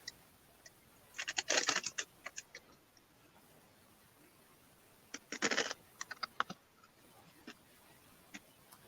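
Two quick bursts of typing on a computer keyboard, rapid clicky keystrokes close by, separated by a pause and trailing off into scattered single taps.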